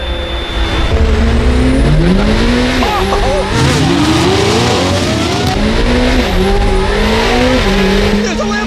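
A 2025 Corvette ZR1 and Lamborghini supercars drag racing, loud revving engines rising through gear shifts with roaring exhaust and tire noise, close and continuous, with excited voices underneath.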